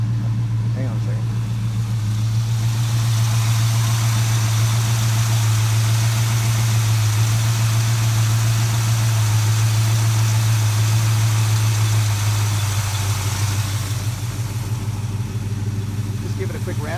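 A 1970 Dodge Super Bee V8 idling steadily up close, a loud, even low rumble that holds for the whole stretch and eases slightly near the end.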